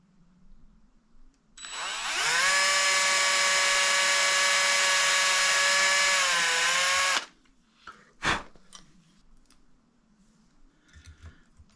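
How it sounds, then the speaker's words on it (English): A power drill boring into a Telecaster-style electric guitar body runs loud and steady for about five seconds, its whine dropping slightly near the end, then cuts off, followed by a sharp knock and faint handling. "So we'll break out the drill and get that sorted out."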